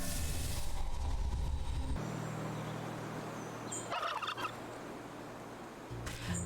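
Several turkey gobbles from the video game Wytchwood ring out over a steady engine-like rumble, with a few sharp chirps partway through.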